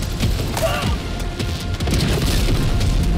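A Hellbomb goes off in the video game Helldivers II. A loud, sustained explosive roar fills the scene, with a brief dip in the middle before it surges again. Rumbling debris and crackling come with it, and a voice briefly calls out.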